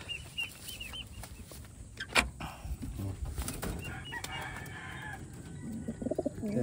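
Pigeons in a loft, a black check white flight bird among them, giving soft intermittent coos and rustling amid close bird noises, with no voices.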